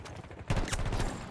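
Bursts of automatic gunfire in Battlefield 2042, starting sharply partway through and continuing as dense, loud rattling fire up close, with no talk.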